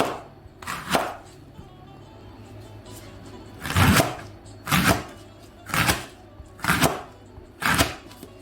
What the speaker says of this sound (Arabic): اول حاجة راح نبداها نديرها لهنا هي نقطع البورو على الشكل هذا